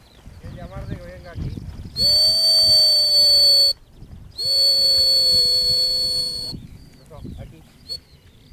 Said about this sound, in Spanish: Lo que es importante es el silbido y el gesto.